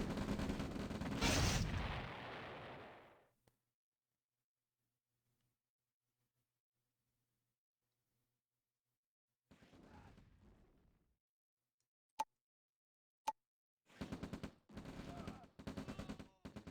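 Units attacking an oil derrick in the OpenRA Red Alert game: a loud blast early, then after a silence, scattered sharp gunfire cracks and bursts of rapid shots.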